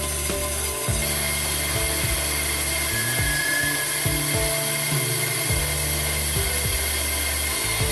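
A brake lathe turns a car's rear brake rotor and cuts about twenty thousandths of metal from it, producing a steady, loud mechanical whine and hum with rhythmic low-pitched pulses throughout.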